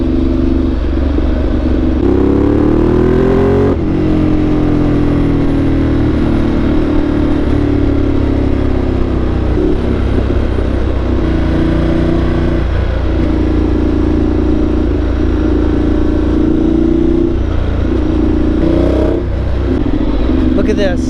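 A Ducati motorcycle rides through an urban area near Porto, its engine loud and close throughout, with revs climbing and dropping in repeated rising pitch sweeps over steady wind rush.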